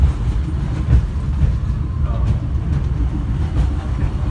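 Subway train running fast, with a loud, steady rumble and rattle of the rail car and faint clickety-clack throughout, heard from inside the carriage.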